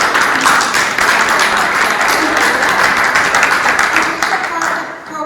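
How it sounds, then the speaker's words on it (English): An audience at a candidate forum claps loudly. The applause is dense and sustained, with many hands close by, and it runs throughout before easing slightly near the end, with a voice speaking over it. "we're also a big round of applause"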